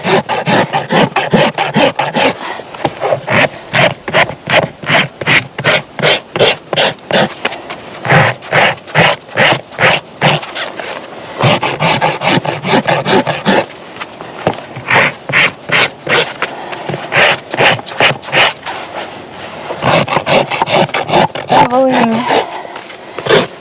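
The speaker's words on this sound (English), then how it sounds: "and do everything else with my rasp." A farrier's rasp files a horse's hoof during a barefoot trim: close, rhythmic back-and-forth scraping strokes in bursts with short pauses between.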